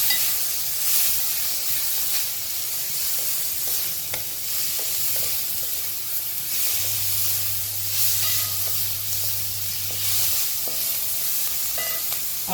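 Chopped onion and tomato sizzle and fry in a pan over high gas, a loud, steady hiss with occasional stirring scrapes throughout and no talking.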